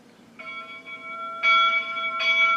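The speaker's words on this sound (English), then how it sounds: "we think we've got some pretty sweet sounding bells on these locomotives" A bright steam locomotive bell rings clearly, struck three times at an unhurried pace, each clang ringing on with a sustained tone.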